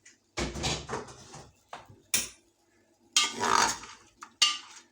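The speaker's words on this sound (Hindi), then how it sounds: "अब कुकर को खोलते हैं।" Metal clanks and scrapes of a pressure cooker lid being handled and lifted after cooking turnip and meat curry, in a few bursts separated by short pauses, close by, no talking.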